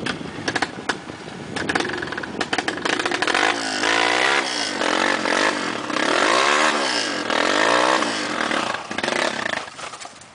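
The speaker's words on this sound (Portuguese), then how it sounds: "Aqui a moto só sobe empurrada" A motorcycle labors up a steep hill, its engine revving hard in repeated surging waves with rising and falling pitch and clattering mechanical noise, loud and close throughout.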